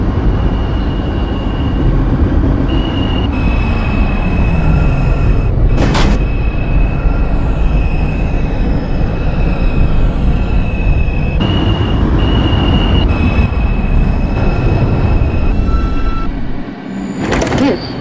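A Manhattan-bound New York subway 2 train in the OpenBVE simulator runs through Brooklyn with a loud, steady rumble. Whining tones and short bursts of noise surface now and then, and there is no talk.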